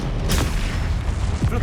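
A Confringo fire spell blasts in Hogwarts Legacy, a loud booming burst with a sharp crack near the start and another thump later, over dense rumbling game combat noise.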